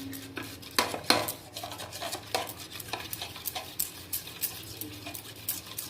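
A spoon stirring and scraping ingredients in a metal pan while they warm for an Oreo biscuit cake, with irregular clinks and taps, close and fairly quiet, without talking.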